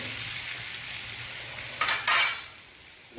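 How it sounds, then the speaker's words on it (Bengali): Potatoes and mutton being stirred in a frying pan, with a steady soft sizzle underneath and two brief louder scraping bursts of the utensil against the pan near the middle. "একটু নাড়াচাড়া করে নিলাম, কারণ আলুটা ভাজা হবে তো, তবে খাসির মাংসটা একটু মচমচে হবে"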